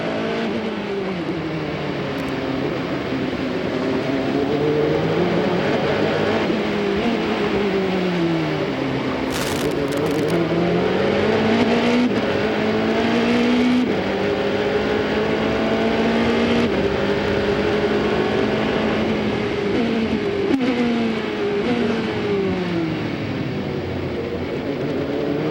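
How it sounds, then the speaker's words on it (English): Audi sports car race engine at the 2002 American Le Mans Series round in Trois-Rivieres, a sustained loud roar rising and falling as the car revs through gears and passes, with no talking. "Let's take a listen to this race car."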